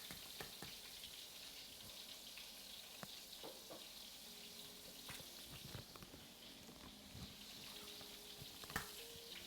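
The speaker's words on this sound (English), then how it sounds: "So much sizzle." Bacon sizzles and pops in a frying pan for a full English breakfast, a steady close hiss broken by scattered crackles and sharp pops.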